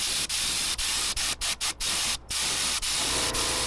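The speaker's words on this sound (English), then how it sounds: "We're gonna pull the airbrush back a ways and kind of put this between those two colors." An airbrush sprays paint onto a jointed winged topwater crawler fishing lure, a loud continuous hiss broken by several short pauses as the trigger is released and pressed again.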